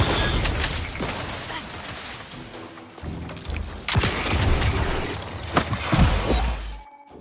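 Gunfire in The Outer Worlds 2 on PC, with sharp cracks and bursts spread across a noisy firefight alongside crashes and low rumbles, while game voices can be heard in the mix.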